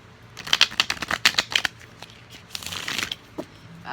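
Close, crisp riffling of a deck of tarot cards, a quick rapid flutter of snapping edges, then a softer sliding shuffle.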